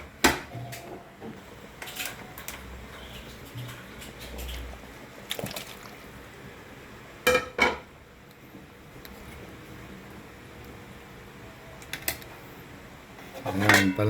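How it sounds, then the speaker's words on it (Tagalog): Milkfish slides into a cooking pot of sinigang broth with scattered clinks and clanks of utensils against the pot, sharp metallic knocks spaced out over a quiet kitchen background. "So, ilalagay ko na itong"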